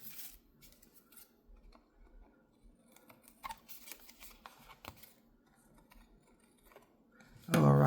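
Scissors snip and trim a gel print for an urban art journal, with small soft cuts and paper rustles close by and a louder handling noise at the very end.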